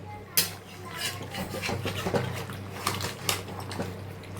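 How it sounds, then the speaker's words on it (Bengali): Mutton being stirred and browned in a pot for a simple Bengali mutton kosha, with repeated rubbing scrapes of a spoon against the metal over a continuous low sizzle, close and fairly loud. "যতক্ষণ না আরও কালারটা চেঞ্জ হয় ততক্ষণ আমি কষাবো"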